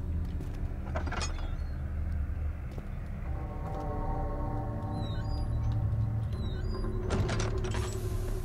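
A heavy door in the horror video game Amnesia: The Great Work slides and grinds open with a low mechanical rumble, with creaks at the start and end over a dark droning ambience.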